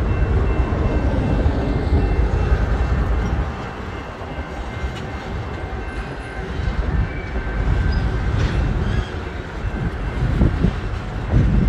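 Freight trains in a busy BNSF rail yard make a continuous loud low rumble and rolling rattle of railcars, with faint squeals and clanks and some wind noise, steady for the whole stretch.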